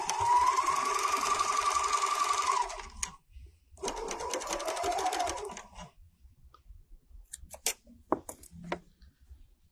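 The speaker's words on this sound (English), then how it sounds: "And then you can actually just serge off sideways from there." Serger sewing machine stitching fabric, serging off sideways past the needles: a close, steady mechanical whir in two bursts of about three and two seconds, followed by quieter handling clicks and rustles.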